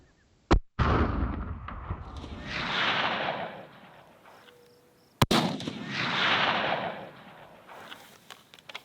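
A Weatherby Model 307 Alpine CT rifle fires two sharp, loud shots a few seconds apart outdoors, each followed by a long rolling echo that fades across open ground.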